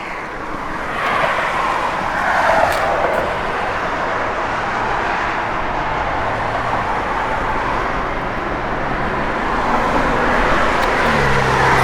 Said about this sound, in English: Chrome tips, got a really nice sound in X-pipe, stainless Magnaflow dual exhaust system in it.